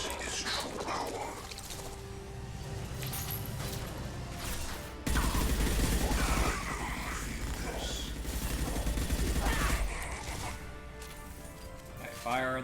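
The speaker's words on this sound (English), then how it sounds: "Firing a high impact shot." Mass Effect 2 combat during the Suicide Mission, with heavy weapon fire and crashing impacts, including a Harbinger high-impact shot, dense bursts of gunfire and explosions mixed with game noise throughout.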